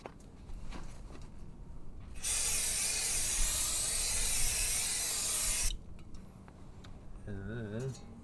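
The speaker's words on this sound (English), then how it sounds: "See, brake clean." A brake cleaner aerosol sprayed onto a rear wheel hub during a wheel bearing and hub replacement: one steady, loud hiss lasting about three and a half seconds, between quieter workshop sounds with faint voices.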